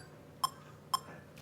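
Two sharp metronome clicks at 120 beats per minute, evenly spaced half a second apart, sound clearly in a quiet room, with the start of a third at the very end.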